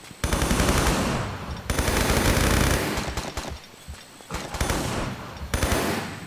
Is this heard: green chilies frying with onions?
no